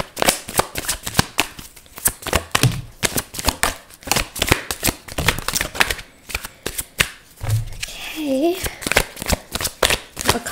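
A deck of tarot-style reading cards is shuffled by hand in repeated quick riffling bursts, close and crisp, with a voice speaking between the shuffles.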